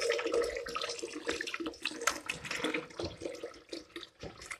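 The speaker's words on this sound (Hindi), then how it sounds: "इसमें अब और पानी डालेंगे" Water splashes and gurgles as it is poured into a container, a steady close rush with uneven surges and no voices.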